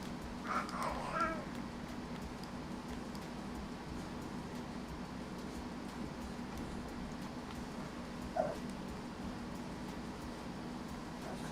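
A cat meows faintly twice, once early and once later, over a steady low hum and background noise during a Pokémon shiny-hunting game session.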